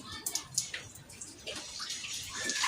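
Water is poured into a small chlorine test sample on a fish farm, giving a brief splashing, trickling pour with a few drips, moderately close and fairly soft.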